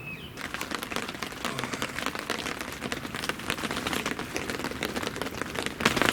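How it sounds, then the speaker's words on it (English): Steady morning rain patters densely on a nearby surface at a carp fishing lake, with countless crisp drops and no voices. "morning, it's raining"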